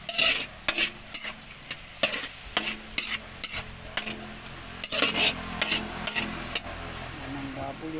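Pork and vegetables for pakbet are stir-fried in a pan over a wood fire. A utensil scrapes and clanks against the metal in rhythmic strokes above a continuous close sizzle.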